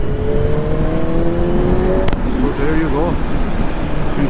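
A BMW M1000R motorcycle pulls in fourth gear from around 50–55, its engine note rising steadily and loud and close for the first half, then thinning out as talk carries on over it.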